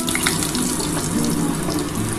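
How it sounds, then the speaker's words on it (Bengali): Potatoes frying in hot oil seasoned with panch phoron (five-spice) for a Bengali vegetable chorchori, a steady, close, broadband sizzle that hisses without pause. "আমি একটুখানি আলু আর কুমড়োটা ভেজে নিই"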